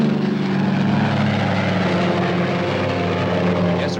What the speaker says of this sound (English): I've sighted that robot plane.